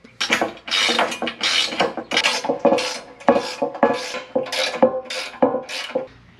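Nylock nuts are tightened on an offroad skid plate with a ratcheting tool, producing a close, steady run of metallic clicks and scraping strokes in an uneven rhythm.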